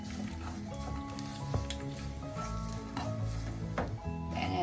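Grated coconut for erissery fries in a pan, a steady close sizzle with stirring scrapes and faint background noises running throughout.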